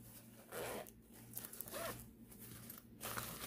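The zipper on a fabric project bag with a zippered top is pulled in several short, scratchy strokes with small pauses between them, faint and close by, with no talking.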